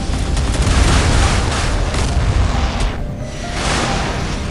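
Warship guns boom and explosions roll continuously in a destroyer battle in the naval video game Modern Warships, a dense, loud barrage with a brief dip before the rumbling resumes.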